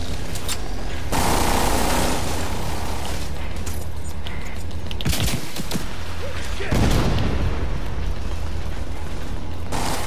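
Gunfire and grenade launches during a firefight in The Division 2, dense bursts of shots and mechanical clatter with heavy blasts, loud and continuous under shouted voices.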